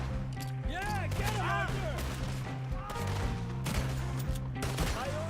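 Shots ring out in Red Dead Redemption 2 amid music and ambient game sound, several reports scattered across a few seconds while someone talks over them.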